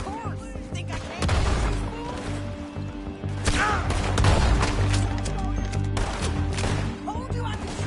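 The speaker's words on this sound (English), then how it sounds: "Told you I could shoot a gun, didn't I?" Gunfire in Red Dead Redemption 2, a few loud broadband shots standing out over a dense, busy game soundscape with music and voices in the mix.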